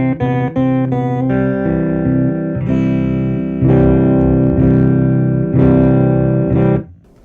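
Electric guitar through a PRS MT15 Mark Tremonti lunchbox head with the treble turned up, mildly gritty breakup on a few quick picked notes followed by loud sustained strummed chords, then a sudden stop.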